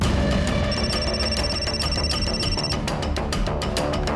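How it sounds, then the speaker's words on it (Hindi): Telephone bell ringing steadily and loudly in repeated electronic trills, close and continuous, with no voices over it. "आप तो बस मौसा जी को फोन लगा रही हो ना।"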